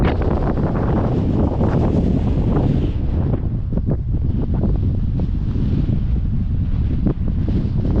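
Strong wind buffets the microphone on a road near Ushuaia in Tierra del Fuego, a loud continuous rumbling roar with gusty surges and no speech.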